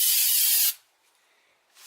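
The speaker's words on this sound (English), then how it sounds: "I'm just coming back with my trusted carburetor cleaner." Carburetor cleaner spraying from an aerosol can while cleaning a used parts washer, one sharp close hissing burst that cuts off abruptly, followed by near quiet and a faint second hiss starting at the end.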